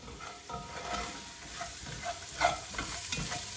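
Onion, garlic and ginger fry in a pan while being stirred, giving a steady soft sizzle with scraping spoon strokes, close and quiet, with no talking.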